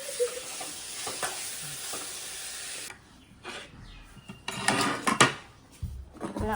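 Masala-filled pastry sheets fry in a pan, giving a steady close sizzle that then drops away into spoon scrapes, clatter against the pan and bursts of crackling, with no one speaking.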